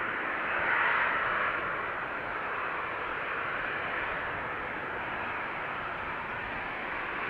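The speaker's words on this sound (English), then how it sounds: "you guys can probably hear already that there's also an airplane approaching" A KLM Boeing 737 on approach to land at Amsterdam Schiphol Airport gives a steady, broad jet roar that swells slightly early on and then holds level, fairly distant and alone without voices.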